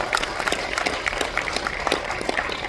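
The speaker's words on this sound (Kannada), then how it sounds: "ಜೋರಾಗಿ ಚಪ್ಪಾಳೆ." Loud, dense applause from an audience at a public event, steady throughout without letting up.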